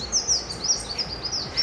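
Cloud forest birds, hummingbirds among them, give a run of thin, high chirps and tweets in quick, uneven bursts, fairly close, over a soft steady background.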